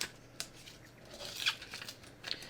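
Scissors snipping through a paper pants pattern piece, with a handful of crisp cuts and light paper rustling and crinkling, close and fairly quiet.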